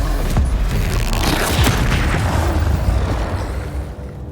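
A Stupefy spell in Hogwarts Legacy is cast with a loud, booming magical burst that rumbles on for several seconds before fading.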